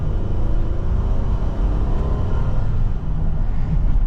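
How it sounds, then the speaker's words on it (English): A 2025 Honda Pilot Trailsport AWD engine pulls under throttle on a test drive, a loud, steady low rumble with no clear rev peaks, heard from inside the cabin. "Giving it some throttle again."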